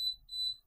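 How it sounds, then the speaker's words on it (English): A prepaid electricity meter beeps in short high-pitched electronic tones, two clear beeps with a brief gap between them, sounding alone without voices. "stop this beeping noise on your prepaid meter"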